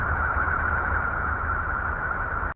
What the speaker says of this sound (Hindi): यूरेनस की आवाज सुनने में हमें गूंजती हुई लगती है।